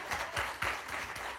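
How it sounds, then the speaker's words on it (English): Applause from an audience at an evening induction ceremony, a brief burst of steady clapping from many hands at moderate distance. "Round of applause, please."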